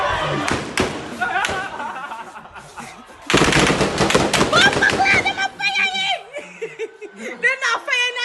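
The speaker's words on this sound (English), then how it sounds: "Yes, them are firing for sure." Gunfire from a street in Spanish Town, Jamaica, comes as muffled bursts and thumps mixed with excited voices and laughter nearby, louder clusters in the second half.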